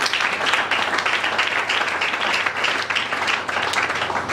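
A church congregation applauds for the Lord at a worship service, with steady, dense clapping that fills the whole stretch at close range and barely changes in loudness.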